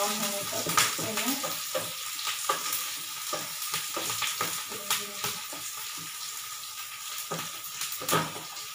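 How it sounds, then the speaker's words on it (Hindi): Onions sizzle steadily in a hot pan while a spoon scrapes and stirs them in frequent irregular strokes, close and clear, with occasional sharper clinks. "प्याज डालने के बाद उसके बाद मैं इसे चलाऊंगी, थोड़ा ब्राउन होने तक"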